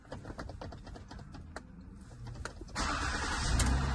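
Ford Escape 3.0 V6 with a faulty ignition switch, a few faint clicks and rattles, then the engine cranks and catches, settling into a louder, steady idle close by.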